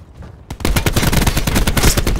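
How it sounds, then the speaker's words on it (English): Rapid automatic gunfire from a sensor gun in the video game Black Ops 4, a loud, fast burst of closely spaced shots that starts abruptly after a brief quiet moment and continues steadily to the end. "Firing sensor gun."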